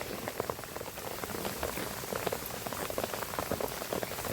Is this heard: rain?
yes